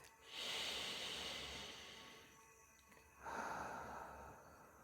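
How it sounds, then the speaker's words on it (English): A person slowly draws in a deep breath and lets it out again, a soft airy hiss of inhale followed by a second breathy rush, close and clear with no talking. "I'm going to take a deep breath"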